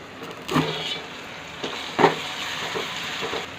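Tomatoes cooking in a pan with fried ginger-garlic paste for a prawn-shell tomato curry, a soft sizzle with two brief louder stirring or scraping bursts, close and fairly quiet.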